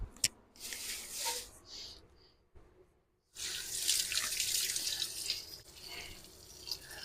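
Tap water runs into a kitchen sink while hands are washed, a steady hiss that breaks off briefly midway and then returns fuller, close and continuous.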